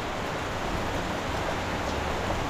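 Heavy storm rain pours down as a dense, steady wash of noise, continuous and fairly loud, with no voices.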